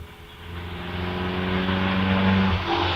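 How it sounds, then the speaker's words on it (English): A vintage Vauxhall 30-98 sports car launches off the line at the Prescott hill climb, its engine note building into a loud, steady drone that rises in pitch and holds near the listener for several seconds. "Robert Frankham off the line in 110, the Vauxhall 3098."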